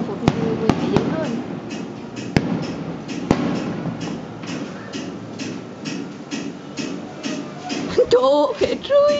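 A fireworks display in Da Nang on 30 April booms with several sharp cracks and a continuous rumble of distant bursts, while people chatter and exclaim nearby, growing livelier toward the end.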